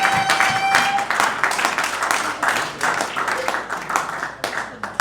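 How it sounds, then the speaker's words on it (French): A church congregation applauds the young people, steady clapping and cheering from a crowd filling the room, fairly loud and continuous, with a voice briefly heard at the start. "Est-ce que vous pouvez acclamer rien que les jeunes? Acclamez pour vous-même."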